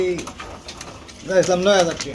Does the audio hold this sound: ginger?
no